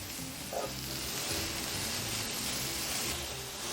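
Carne asada seasoned with garlic powder sizzles loudly in a hot pan, a dense, unbroken crackle close by, with faint scraping as the pieces are pushed around.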